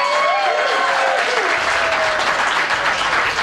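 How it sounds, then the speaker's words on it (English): A studio audience at a Las Vegas magic show breaks into loud, sustained applause, dense clapping filling the room for several seconds. "Give them a nice round of applause."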